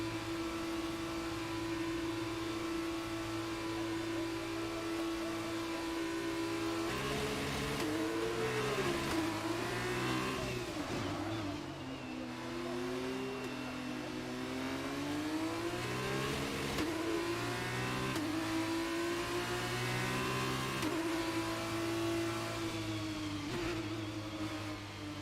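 Semi-automatic F1 22 race car engine revving hard in VR career mode, a loud continuous whine climbing and dropping through gear shifts with steady acceleration over about twenty-five seconds.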